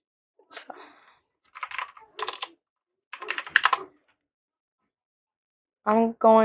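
A computer keyboard being typed on while working in Roblox Studio, heard in several short bursts of quick, crisp key clicks separated by silent gaps, then a voice speaks briefly at the end.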